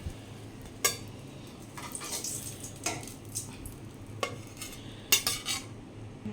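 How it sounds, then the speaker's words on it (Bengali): Eggplant slices being lifted out of hot frying oil, with faint sizzling under sharp metal clinks of a utensil against the pan at irregular intervals, close by. "বেগুনটা ভালো করে ভাজা হয়ে গেছে, এবারে বেগুন ভাজাটা আমি তুলে নিচ্ছি"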